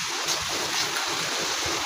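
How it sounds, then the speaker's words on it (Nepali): Steady rain falls outdoors in the Darjeeling area, an even, dense wash of noise heard close and continuous with no voices. "मस्त पानी आइरहेको छ शीतल मौसम भइरहेको छ"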